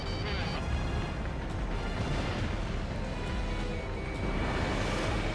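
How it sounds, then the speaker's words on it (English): Naval gunfire explosions in the video game Ace Combat Infinity, a dense continuous roar of blasts and rumble that stays loud and steady throughout with no clear gaps. "Naval gunfire!"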